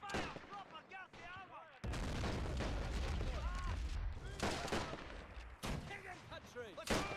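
Rifle and machine-gun fire crackles through a 1919 German Revolution strategy game battle, Freikorps against Spartacists, with dense sustained volleys and heavy booms after a brief lull; a voice talks over parts of it.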